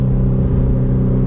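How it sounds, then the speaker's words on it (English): A 2004 Subaru WRX STI running a stock-block engine tuned to about 400 hp drones loudly and steadily from close by during a downshift, a dense low engine rumble with no voices over it. "Downshift to third."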